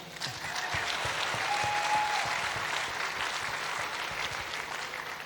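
A church congregation claps together in sustained, dense applause that holds at a steady loud level from start to end, with no talk over it.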